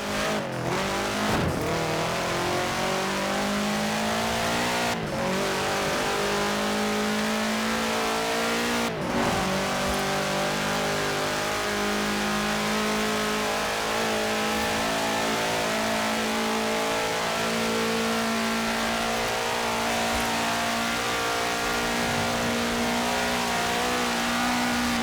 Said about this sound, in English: take this Volkswagen Type 2 and attempt to make it take off